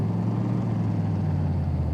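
Tempest Magnum engine on a dyno in Car Mechanic Simulator 2018 running through a gear shift, a loud, continuous low drone with a steady tone and no pauses.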